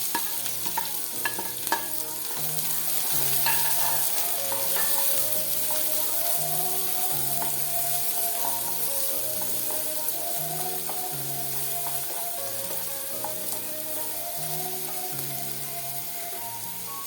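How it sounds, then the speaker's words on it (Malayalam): Chopped onion frying in a pan for a drumstick thoran, a steady close sizzle with rhythmic stirring scrapes and some utensil clatter throughout. "നമുക്ക് സവാള അരിഞ്ഞതും കൂടെ ഇട്ട് കൊടുക്കും"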